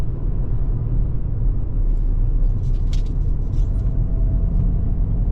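A 2024 Ford Escape ST-Line SUV rolls along and corners, giving a loud, steady low road-and-engine rumble from inside the cabin, with a few faint squeaks over it.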